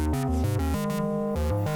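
Pittsburgh Modular Taiga synth with its filter, ADSR and dynamics reacting to a note sequence from an Elektron Digitakt, playing a loud, harmonically rich stepping pattern of short held synth notes that shift pitch every quarter second or so.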